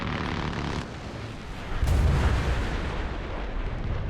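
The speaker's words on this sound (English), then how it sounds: "He took a missile hit and kept flying." Missile striking a MiG-23ML jet in a combat flight game: a sudden heavy boom bursts out and rolls over a constant roaring engine and wind backdrop, loud and close.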